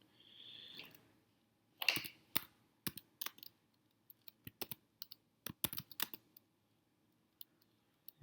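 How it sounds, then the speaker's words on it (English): Slow typing on a computer keyboard, with irregular bursts of sharp key clicks separated by pauses, close and fairly quiet with no talking. "You're seeing how slow of a typer I am."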